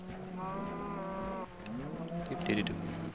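Cows in a farming video game, part of a pack of 16, give long, drawn-out moos, one after another, loud and close, with no one speaking over them.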